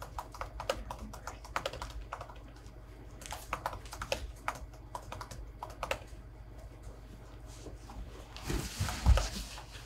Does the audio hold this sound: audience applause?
no